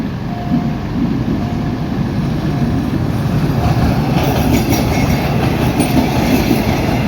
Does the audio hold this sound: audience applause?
no